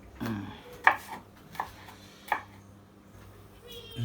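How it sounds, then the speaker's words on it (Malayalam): A knife chopping ginger and garlic on a board in a home kitchen, several sharp, distinct chops spaced about a second apart, close and fairly quiet, with faint background hum between strikes. "ഇനി അടുത്തത് കഴിഞ്ഞ് ഇഞ്ചിയും വെളുത്തുള്ളിയൊക്കെ അരിഞ്ഞെടുക്കുക"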